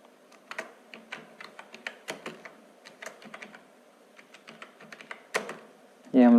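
An email address is typed on a computer keyboard into an MS Word document: a quick run of light, close key clicks in irregular bursts. A voice briefly starts to speak at the very end.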